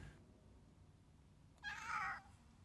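A house cat meows once in a single drawn-out, fairly loud call partway through, with quiet room tone before and after.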